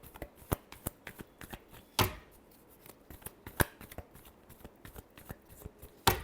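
Tarot cards are shuffled in a quick series of crisp slaps and riffles at close range. Several sharper snaps stand out among the softer flutters.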